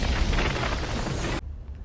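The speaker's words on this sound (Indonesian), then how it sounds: "Dan boom! Terjadi ledakan di dalam basement membuat para penjahat lain panik." A gas cylinder explodes in a basement in the film Don't Breathe 2, a loud, dense rumbling blast that roars for over a second and then drops off sharply into a quiet low tail.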